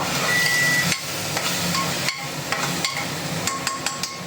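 Rice and dal tipped into a pot for khichuri and stirred, giving a steady sizzle with a few sharp knocks and scrapes of a spoon against the pot, close and moderately loud.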